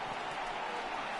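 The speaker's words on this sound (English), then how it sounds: "I can hear the crowd murmuring now" Low, steady stadium crowd murmur in a baseball video game, MLB The Show 18, Phillies vs Red Sox, a diffuse broad wash of distant voices running evenly throughout at a faint level.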